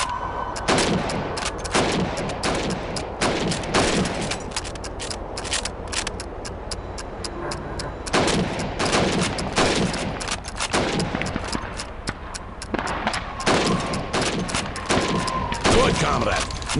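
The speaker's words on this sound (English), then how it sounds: "You have 15 seconds to shoot the helmets." Rapid rifle shots at helmet targets during a timed shooting drill in Call of Duty 2, with sharp, close cracks fired in quick bursts and brief pauses.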